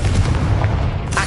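A Confringo blasting spell explodes in the Hogwarts Legacy video game, a loud, deep continuous rumble with a brighter burst near the end.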